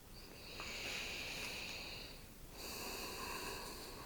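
A slow, deep breath during seated desk yoga: a long airy inhale, a brief pause, then a second rush of breath, soft and close with no talking.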